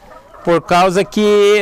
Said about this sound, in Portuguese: até há pouco você ouviu um galo cantando aqui